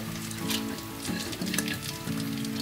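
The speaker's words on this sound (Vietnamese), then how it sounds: "Bây giờ mình sẽ cho đậu vào đây mình nấu." Soaked mung beans tipped into a 1.5-litre pot to cook for pandan mung bean milk: a soft pattering, sizzling rush with scattered light taps, close and moderately quiet, with no talking.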